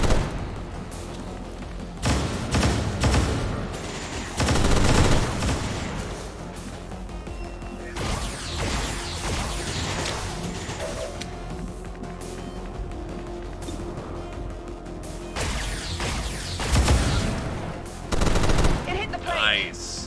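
Gold pistol shots in the video game XCOM War of the Chosen, a few sharp, loud bursts of gunfire with crashing impacts, spaced apart and set against game background sound.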